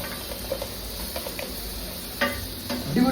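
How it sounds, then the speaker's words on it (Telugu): Ginger garlic paste masala stirred in a pan for brinjal curry: soft scraping and clinks of a spoon against the pan over a quiet, steady sizzle, growing slightly louder toward the end. "మంచిగా అయితే మాడకుండా కలుపుకున్నాం, పచ్చివాసన పోయేదాకా అల్లం వెల్లుల్లి పేస్ట్ని"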